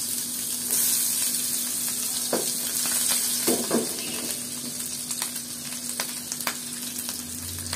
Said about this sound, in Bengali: ফ্রাই প্যানে তেল গরম হয়ে গেছে, এখন আমি মেখে রাখা ডিমগুলো দিয়ে দিচ্ছি।